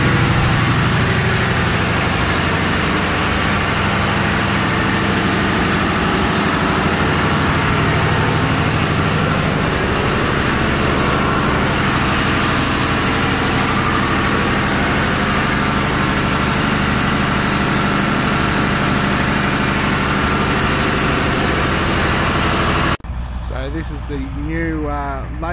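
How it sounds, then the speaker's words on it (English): Two Cummins diesel generators, rated about 110 kVA peak and 88 kVA constant, run inside a generator shed at an aerodrome camp, giving a loud, steady engine drone that holds for over twenty seconds before cutting off near the end. "this is the generator shed. We've got two generators in here, Cummins generators."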